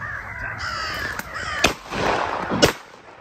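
Crows caw outdoors during a crow hunt, with several harsh calls spread across a few seconds amid breezy ambience, and sharp shotgun blasts break in twice.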